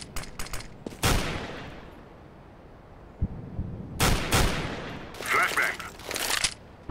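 Gunfire faked by a decoy grenade in the shooter CS:GO: clusters of sharp rifle-like pops in separate bursts, some rapid and overlapping, with quieter game ambience between them.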